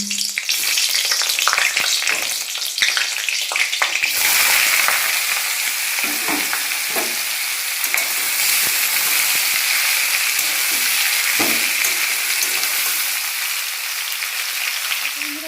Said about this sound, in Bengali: কাঁচা লঙ্কা দিয়ে আজকে ভাজবো।